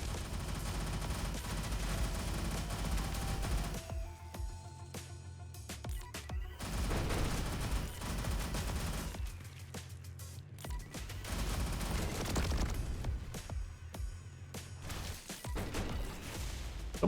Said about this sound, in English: Somebody's shooting something at me.